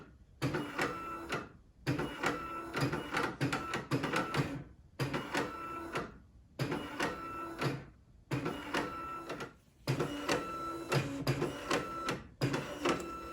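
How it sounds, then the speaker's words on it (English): A Canon BJ130E, the first Canon bubble jet printer from 1988, prints in loud mechanical bursts of head travel and whirring, with repeated passes separated by short pauses, close up and with no talking. "This is a Canon BJ130E. It was Canon's first bubble jet printer."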